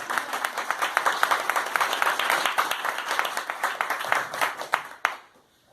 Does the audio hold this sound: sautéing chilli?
no